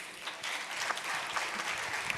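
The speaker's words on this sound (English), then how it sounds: "Je pense qu'elle mérite des applaudissements." Steady applause from an audience at a French-language web TV panel event, a dense wash of hand claps sustained at moderate volume throughout.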